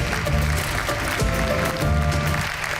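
Applause rings out at an award ceremony in a cartoon, a dense, steady crowd clapping that keeps going the whole time, with faint voices mixed in.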